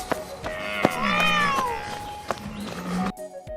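A cat meows in a drawn-out, rising and falling cry near the middle, with soft scuffing movements before and after it, close and fairly quiet.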